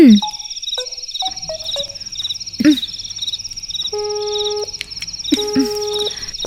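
A telephone with its receiver left off the hook gives off electronic tones: short beeping pulses and steady held notes, repeating in an uneven pattern through the stretch.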